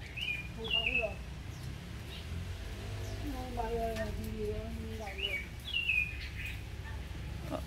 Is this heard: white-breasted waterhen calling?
yes